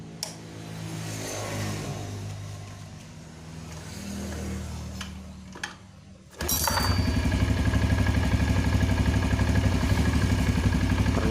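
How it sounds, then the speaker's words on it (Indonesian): A carburetted motorcycle at a repair shop goes from quiet workshop clatter to a single kick-start, then its engine catches at once and idles loudly and steadily, close by. "Ternyata langsung menyala sekali engkol Kang Bro."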